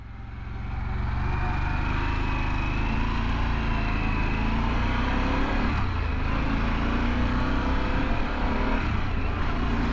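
Engine drone and road rumble from a 2022 Harley-Davidson Pan America 1250 Special motorcycle being ridden, a steady loud low hum with wind noise that builds in the first second and holds constant throughout, no talking.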